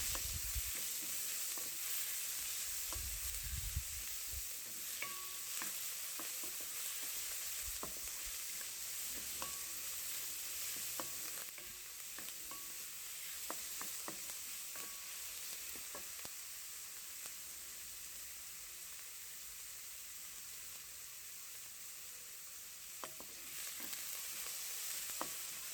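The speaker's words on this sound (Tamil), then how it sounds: "வெங்காயம் வதங்கிட்டு" Onions sautéing in a pan for spicy chicken curry: a soft, steady sizzle of frying with occasional light clicks from stirring, fairly quiet and with no talk.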